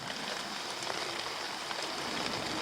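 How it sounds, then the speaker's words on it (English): Rain patters steadily on a thick, sealed, waterproof canvas bag outdoors, a constant bright hiss of drops with no voices. "It's beading a lot of that rain off."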